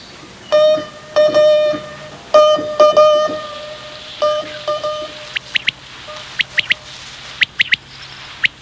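A human voice imitates a quail's one-note song, giving short clipped whistled calls in rhythmic groups that stop and start, followed by higher thin chirping whistles, clear and close with no talking.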